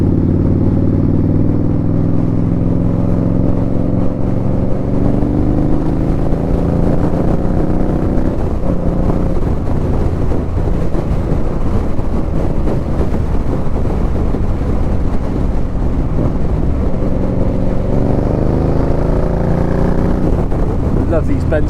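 An Indian Scout Bobber motorcycle cruises along country roads, its engine a continuous low rumble under heavy wind buffeting, with the revs shifting now and then.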